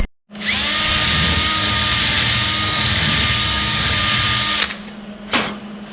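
A power drill widens the holes on a crew cab door latch assembly, a loud, steady, high whine for about four seconds close up. A brief second burst follows.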